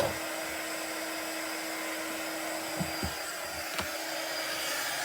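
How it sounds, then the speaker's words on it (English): Heat gun blowing hot air while warming a Stampin' Up! paper card during card making: a steady, even whooshing roar throughout, with a few faint clicks and taps from handling. No talking. "Heat gun's nice and warm."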